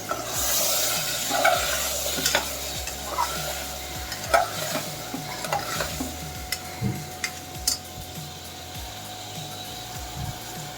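Food being cooked for aloo kurma, with salt, turmeric and ginger garlic paste, is stirred in a sizzling pan; scraping strokes recur every second or so over a steady close-up frying hiss.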